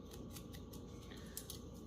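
Sharp scissors scraping and roughing up the edges of paper ephemera in a quiet craft setting: a series of rapid, faint, crisp rasping strokes repeated in an uneven rhythm.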